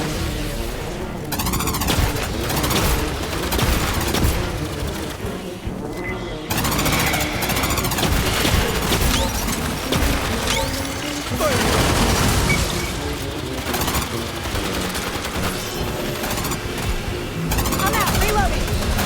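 A grenade explosion in the video game Aliens: Fireteam Elite, amid dense, loud, continuous bursts of gunfire and booms, with a player speaking over the battle.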